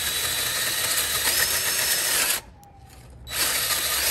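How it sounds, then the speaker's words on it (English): A corded drill fitted with a hole saw bites into a piece of wood at low speed, making a loud, steady, gritty whine. It cuts out abruptly for about a second, then starts up again. "as we start to drill into our piece of wood, we're going to drill with the pilot hole"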